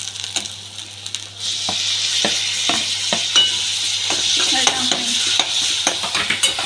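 Tomatoes sizzle and fry in a pan while being stirred, with steady bright sizzling throughout and repeated scraping, clinking strokes of a utensil against the pan, close up with no talking.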